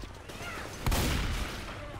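A single loud, close shotgun blast fires in Left 4 Dead 2, preceded by a faint click, with a sharp crack that rolls into a booming decay over a hiss of game ambience.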